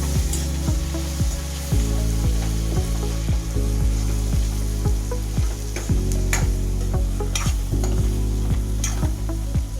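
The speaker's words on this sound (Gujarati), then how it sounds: "બધા જ મસાલા મિક્સ કરી દેવાના સબ્જીમાં." Vegetables frying for khichdi are stirred with Rajwadi masala, producing a loud, regular rhythm of spatula scrapes against the pan over a continuous sizzle.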